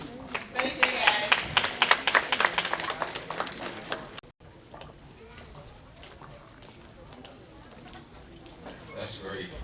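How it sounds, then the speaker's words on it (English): An audience claps and applauds for volunteers at a coming-of-age initiation rites ceremony, a dense burst of clapping for about four seconds that cuts off, followed by quiet chatter and murmuring. "I believe we should give a better round of applause for volunteering."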